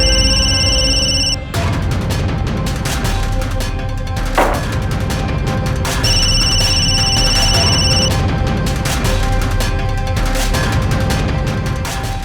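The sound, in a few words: telephone ringing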